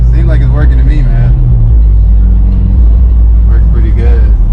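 Mitsubishi Evo 8 running on the road, a loud, steady low engine drone heard close from inside the car, with someone talking over it.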